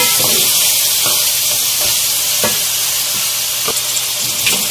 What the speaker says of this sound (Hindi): इन सारे मसालों को भी हम गोश्त के साथ अच्छे से भूनेंगे।